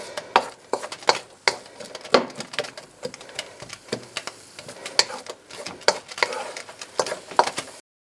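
Diced onions and carrots sautéing in hot oil for fried rice, with quick scraping and clattering strokes of a utensil stirring the pan over a soft, steady sizzle, close by and with no talking.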